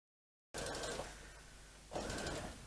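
A sewing machine stitches a quarter-inch seam on a zipped cushion: after a moment of silence comes a close, rapid whirring mechanical run that eases off briefly, then surges again.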